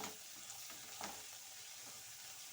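Green beans frying in a pan give a steady, soft sizzle with faint crackles and a few stirring scrapes, quiet and continuous with no talking.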